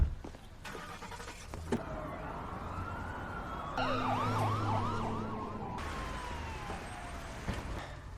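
Emergency vehicle sirens wailing and yelping amid traffic in a French action film scene, rising and falling tones with a fast warbling burst in the middle, over car noise and brief muffled voices.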